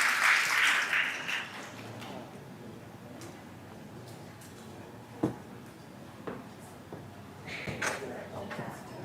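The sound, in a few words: applause for a speaker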